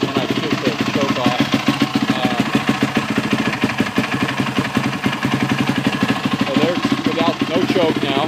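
A Yamaha YZ450F dirt bike engine idles steadily with a fast, even thumping pulse, loud and close, while someone talks over it.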